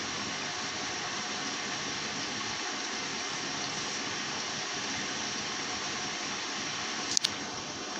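Water pouring steadily into a washing machine filling for a curtain wash, a continuous loud even rush of gushing water, with a brief click near the end.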